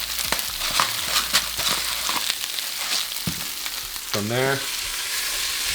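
Onions and peppers sizzling in a hot pan, a steady crackling fry with occasional stirring clatter; someone speaks briefly over it near the end.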